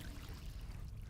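Muffled underwater ambience in Alan Wake 2, a dense low rumble with soft trickling, bubbling texture, steady and enveloping without any voices.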